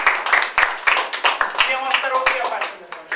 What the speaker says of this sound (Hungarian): Tapsoljuk meg először Masterot és a Predit!